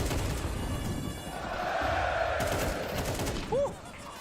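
A Counter-Strike match between Vitality and NAVI: muffled bursts of gunfire rattle under a crowd-like background roar, moderately loud and somewhat distant, with a sharper sound near the end.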